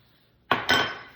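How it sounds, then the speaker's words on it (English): Sugar and melted butter tipped into a mixing bowl for a ricotta chocolate chip cake, giving two quick clattering thuds close up with a brief rattling tail, no voices. "Now to that, I'm going to add the sugar and the melted butter"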